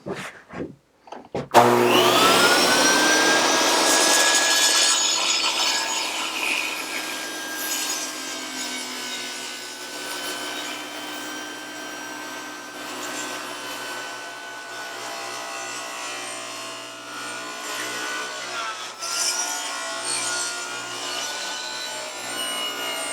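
Power saw spinning up and ripping through 1x10 wooden boards, a loud sustained whining cut that settles into a steady grind lasting about twenty seconds, alone without talk.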